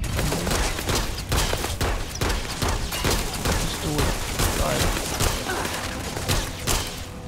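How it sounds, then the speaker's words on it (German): Rapid gunfire from the video game Starfield rattles on through a cave, loud, dense and sustained with sharp repeated shots and occasional heavier booms, while a voice speaks now and then. "Da schießt irgendwas. Da unten."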